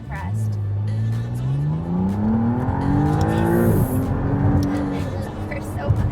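A McLaren Artura V6 sports car accelerates hard, its engine note climbing steadily through the gears with a brief shift dip, loud and close from inside the cabin as people talk over it.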